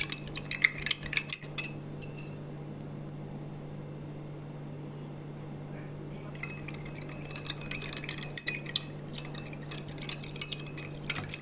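A spoon stirs lemon juice, sugar and water together for lemon sherbet, making continuous close clinks and scrapes over a steady low hum, with no talking.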